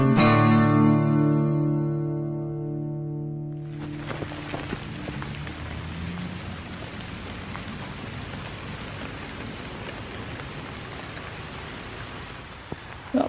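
Steady rain falls on a hiking trail in a nature preserve, a dense, even hiss of drops that begins after a few seconds of quieter tonal sound and then continues unbroken.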